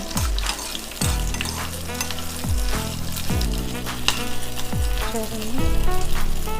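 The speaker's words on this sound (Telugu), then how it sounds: "జీడిపప్పు మనకు తెలుస్తుంది వేగుతుంది." Cashews and green chillies frying in hot oil in a pan, a steady crackling sizzle with repeated stirring scrapes and knocks roughly every second, close and loud throughout.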